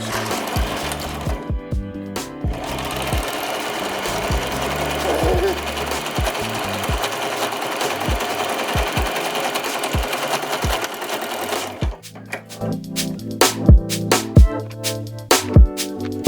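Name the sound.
sewing machine zigzag stitching and back stitching a skirt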